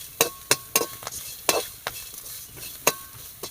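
Mint leaves sautéed and stirred in a pan for a coconut chammandhi, with a series of sharp spatula scrapes and taps against the pan over a faint sizzle, close and fairly quiet.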